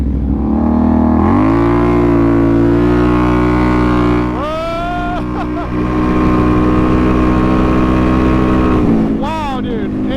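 A Can-Am Renegade 1000 ATV engine roars loud and close, revving hard and accelerating with a brief drop in pitch midway before climbing again, heard alone without talk.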